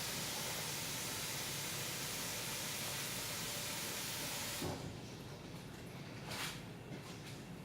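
A strong broadband rush of cold tap water fills a bowl with a colander beside it, loud and steady, then cuts to a quieter, thinner trickle with a couple of brief splashes.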